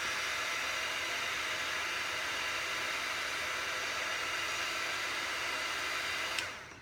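Heat tool blowing hot air over a resin sheet to soften it, a steady loud broadband whoosh running continuously with no talk, cutting off right at the end.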